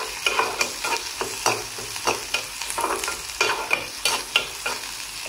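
Onion, green chilli, garlic and curry leaves frying in oil for a tamarind plantain curry, with a busy close sizzle and a regular series of scraping stirs from a spatula against the pan, no voices.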